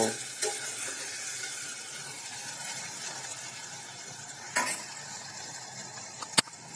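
Chopped tomatoes cooking in oil over low heat, a soft steady sizzle with occasional scrapes and clinks of a spoon stirring the pan, fairly quiet with no talking.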